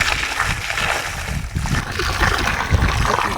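Water splashes and gurgles as it is poured into a fence post hole around a steel pole set in concrete, with irregular sloshing and bubbling close by.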